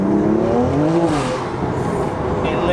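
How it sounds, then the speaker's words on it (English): A modified BMW M2 Competition accelerates hard, its engine note rising loudly and steadily while the rear tyres spin and squeal, the roar continuous throughout. "It sounds brutal. Yeah, it just lights the back tyres up there."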